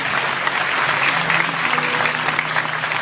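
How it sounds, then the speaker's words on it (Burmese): Audience at a Christian worship gathering claps in praise of Jesus Christ, with dense, steady applause filling the whole stretch, loud and close with no voices on top. "အဲ့ဒီနာမတော်လက်ခုပ်တီးပြီးကျွန်တော်ချီးမွမ်းကြရအောင်"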